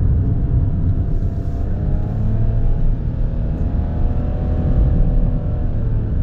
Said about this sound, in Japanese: 上りはエンジンがうなって30キロが精一杯です